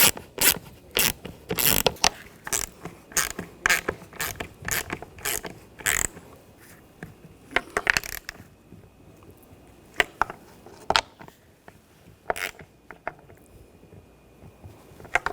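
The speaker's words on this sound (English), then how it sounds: "just make sure it's all the way down and snug up the bolts" Bolts being snugged down on a Honda CR-V 2.4L intake runner, a quick run of close, sharp metallic ratcheting clicks followed by sparser single clicks and light scraping, with no talk.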